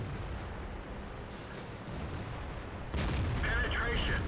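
Artillery shells firing in World of Tanks during a T32 tank battle: a continuous rumbling roar, then a sharper, louder blast about three seconds in that carries a ringing edge to the end.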